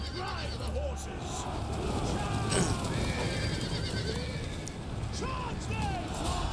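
Thrones of Britannia battle with cavalry horses whinnying repeatedly over a constant clatter of hooves and a rumbling melee, voices shouting among the din.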